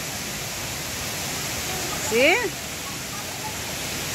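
Natural mountain spring water pours steadily at a waterfall resort in Surigao del Norte, a continuous broadband rushing that fills the whole clip, with a brief voice speaking over it midway.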